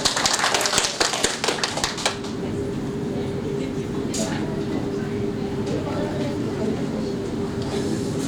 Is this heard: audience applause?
yes